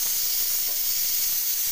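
Papads slid one by one into a hot pan for a vegetarian potato dish, producing a loud, steady, close hiss of sizzling that holds evenly throughout.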